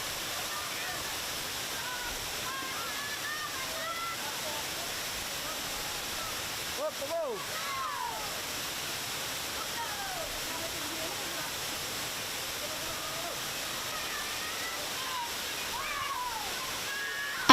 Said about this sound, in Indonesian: Air terjun yang terdapat di Desa Talang Paruh, Kecamatan Lembah Masurai, Kabupaten Merangin, Provinsi Jambi, ini memiliki 3 tingkat